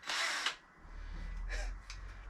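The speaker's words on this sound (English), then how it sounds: "I'm just drilling like an animal today." A high-pitched power drill whirs in a short burst while removing the wings from a Ford Escort Cosworth, then lower motor grinding continues with brief spurts of higher whine, close and loud.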